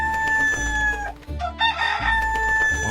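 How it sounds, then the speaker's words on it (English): A rooster crows loudly and close, a couple of strained, drawn-out calls over a steady tonal music bed. "At that moment, a rooster suddenly landed on Emily's head and began to crow."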